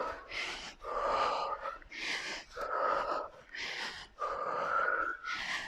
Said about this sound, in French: Là, on reprend bien sa respiration.